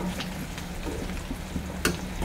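Double-yolk eggs frying in hot oil in a pan, a steady close sizzle with a few sharp pops and crackles, no voices.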